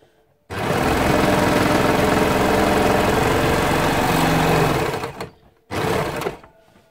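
Domestic sewing machine stitching back over a badly sewn spot on a sweatshirt dress with several layers of fabric, one loud steady run of about four and a half seconds, then a brief pause and a short second burst, with no talking.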